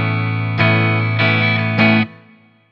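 A double-neck Gibson electric guitar rings out three sustained strummed chords, each swelling loud before the last cuts off, leaving a faint reverb-like tail of sympathetic string resonance.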